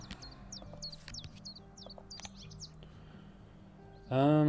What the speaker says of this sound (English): Oh, Chiff Chaff. That's a bird I like.